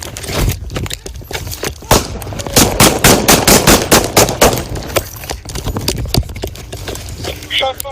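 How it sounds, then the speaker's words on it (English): Gunfire erupts during a police confrontation: a rapid string of loud, sharp bangs fires close by in an irregular burst, with voices shouting throughout. "Shots fired, shots fired."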